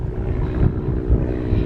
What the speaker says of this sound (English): the helicopter's been backwards and forwards a few times this morning.